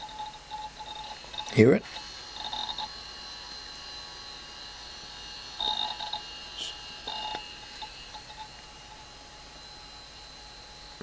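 Hard drive of a Toshiba 305CDS laptop at work: a thin, steady whine with a few sharp seek clicks and brief chatter, heard up close under a short spoken question.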